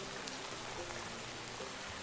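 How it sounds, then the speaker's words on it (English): Rain falls steadily in the Ocean Block ocean survival game, a soft, even hiss of drops on a surface that holds constant and faint throughout, with no voices. "I tried to sleep through the rain"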